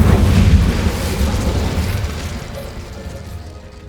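A fiery Incendio spell cast in Hogwarts Legacy erupts as a loud, close booming burst that rumbles and slowly fades over a few seconds.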